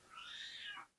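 A ginger cat meows outdoors, one long drawn-out call lasting most of a second, close and fairly clear with no talk over it.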